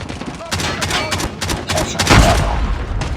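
Gunfire rattles through a video game shooter match: rapid bursts of shots and a louder boom, close and loud, with game voice callouts mixed in.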